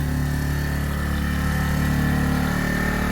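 Keeway RKV motorcycle engine idling steadily after a carburettor clean, a continuous close, even mid-pitched thrum with a low throb running unbroken throughout and no talk.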